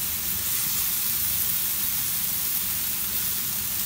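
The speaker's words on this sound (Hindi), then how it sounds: "ज़रा सा बस सौते करना है" Onions sauté in a pan for chicken samosa filling, a steady close sizzle of frying that holds evenly throughout with no talk.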